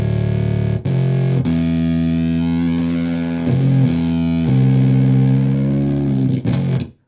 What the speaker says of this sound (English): It's essentially a Woolly Mammoth clone, which is a bass fuzz.